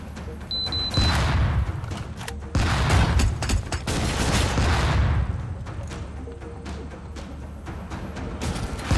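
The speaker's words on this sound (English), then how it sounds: "Let's keep the area saturated in explosions." Explosions in the tactical video game Lethal Tactics roll out as a dense, loud barrage of overlapping blasts and gunfire-like bursts, with heavy booms near the start and around the third second, then a sustained rumbling crackle.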